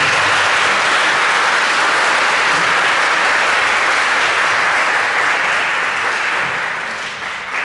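Loud, sustained applause from a school assembly audience welcoming a university president at a mentoring program ceremony, a dense continuous wash of clapping that tapers slightly near the end.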